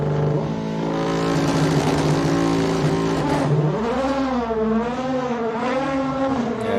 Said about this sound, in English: Listen to this car.